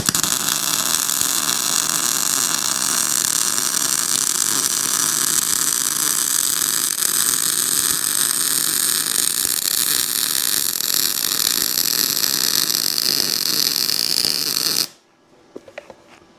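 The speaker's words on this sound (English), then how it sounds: "If you want to know what it looks like when you weld without gas, without fluxed wire" Welding without shielding gas or flux-core wire produces a loud, steady crackling hiss and buzz for about fifteen seconds, then stops abruptly, leaving a few faint clicks.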